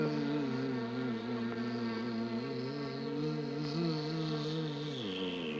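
An award-winning actor imitates bee buzzing with his voice in the film The Bees, a steady, close, droning hum with shifting pitch that carries on without a break and bends lower near the end.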